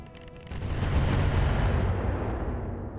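A mech firing an incendiary weapon in the BattleTech video game makes a deep, sustained roaring boom that swells quickly and then slowly fades, loud and alone.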